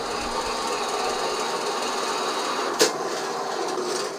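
A saw cutting through a Yamaha FZ09 motorcycle fork part, a continuous buzzing rasp at an even level with one brief sharp clack partway through, close and fairly loud with no talking.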